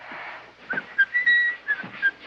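Someone whistles a short, bright tune in several separate notes and phrases, fairly close and clear, with faint background noise.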